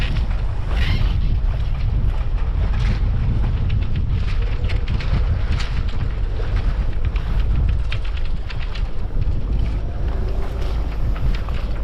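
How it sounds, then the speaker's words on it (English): Strong wind roars steadily across the microphone while sailing a small boat, with constant loud buffeting and rushing air masking faint water sounds. "Windy, windy, windy."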